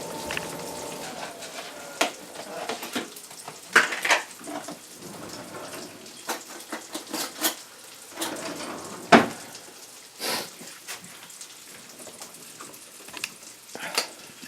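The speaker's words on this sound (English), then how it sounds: "The next thing I'm going to do is add a dab of butter." Chopped sausage sizzles and crackles steadily in a frying pan with butter melting in, irregular pops and scraping stirs close up throughout.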